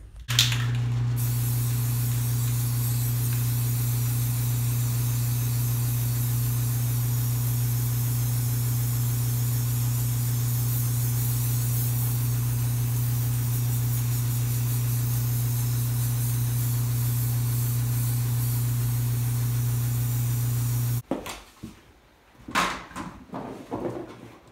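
Spray painting a solar kiln for drying wood, a long continuous hiss at close range under a steady hum, then cutting off abruptly near the end, followed by a few faint handling knocks.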